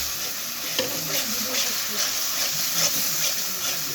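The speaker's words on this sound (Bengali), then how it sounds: "নুন দিয়ে মশলাটা আরো ভালোভাবে কষাবো।" Spices including cumin powder and whole garam masala hiss and sizzle in a hot pan for a homemade tarka, a steady close frying crackle with soft scraping strokes of stirring.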